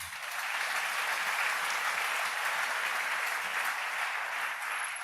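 Church congregation applauding together, a steady, dense wash of clapping sustained throughout, fairly close and full, with no speech over it.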